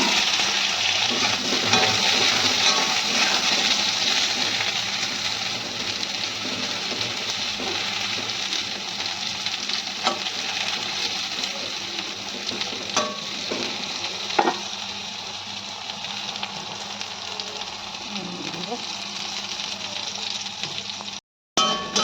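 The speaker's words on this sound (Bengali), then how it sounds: "ওই তেলে এবার আমি বেগুনগুলোকে ভেজে নেব।" Brinjal fries in mustard oil left over from frying fish, a continuous close sizzle with occasional stirring scrapes and spatters, steady and loud until a brief cut near the end.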